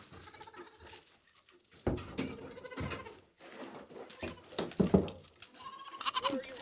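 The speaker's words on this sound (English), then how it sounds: "She must be the alpha goat." Goats on an Alaskan homestead, bleating near a newly built pen as they file out, with several uneven calls at close range and some shuffling and rustling in between, and no speech.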